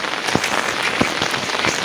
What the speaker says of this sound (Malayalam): ഇപ്പോൾ ഇവിടെ മഴയാണ്